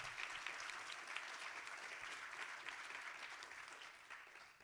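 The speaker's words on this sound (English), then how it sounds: "I'll ask you to give them a quick round of applause for having the courage to run." Audience members at a 2022 candidates forum give a quick round of applause for the candidates, a steady, fairly quiet patter of many hands clapping continuously from start to finish.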